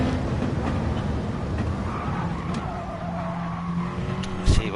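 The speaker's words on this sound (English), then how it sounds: "Let's jump on board with Salt Foods and see how that overtake looked from his perspective." Racing-game race car heard from onboard during an overtake at Spa, a steady engine drone at constant loudness with some tire scrub, ending in a brief louder bump near the close.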